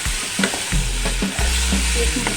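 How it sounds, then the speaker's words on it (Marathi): Brinjal pieces being stir-fried in a pan, with a steady sizzle broken by repeated scraping strokes of a spatula in an uneven rhythm, close and fairly loud. "5 मिनिटं परतत राहायचं"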